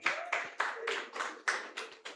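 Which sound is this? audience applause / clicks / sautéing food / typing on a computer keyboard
audience applause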